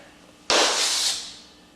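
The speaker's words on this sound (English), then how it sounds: "That is called scraping. Scraping is a common problem for beginning tap dancers." A tap shoe scrapes across the floor during a beginner's brush step, a single sudden hissing swipe that starts abruptly, holds bright and loud for about half a second, then fades away.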